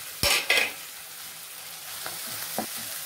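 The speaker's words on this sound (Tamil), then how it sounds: "இப்போ ஒரு கையளவுக்கு புதினாவும் மல்லியும் தேவையான ஒரு கையளவுக்கு போட்டுக்கோங்க அதையும் போட்டு நல்லா வதக்கிடுவோம்" Biryani masala with handfuls of mint and coriander leaves being stirred and sautéed in a pan, two quick scraping stirs up front, then a low steady sizzle with a couple of faint later stirs.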